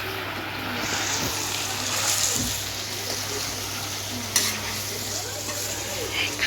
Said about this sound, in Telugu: కొద్దిగా కరివేపాకు వేసుకొని అయితే ఇది ఫ్రై చేసుకున్నామండి